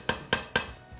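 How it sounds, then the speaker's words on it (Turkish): Spoon stirring food in a cooking pot for Turkish potato oturtma, three distinct clinking scrapes at a steady rhythm, close and fairly quiet, with no talking. "Şöyle bir karıştıralım."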